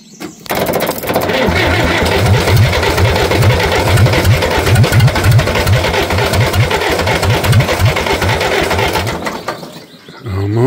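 A 1960 diesel engine cranks on glow plug after two months idle. It gives a loud, close, rhythmic chugging and knocking that sputters on for several seconds before dying away, with brief voices in the background.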